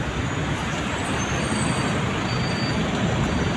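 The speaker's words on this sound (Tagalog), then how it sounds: "Medyo traffic din po kasi ng konti dito sa may North Fairview." Road traffic with buses and jeepneys in North Fairview: a steady, dense roar of passing vehicles, loud and continuous with no clear breaks, heard alone.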